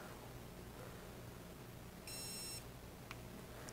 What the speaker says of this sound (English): So you heard it beep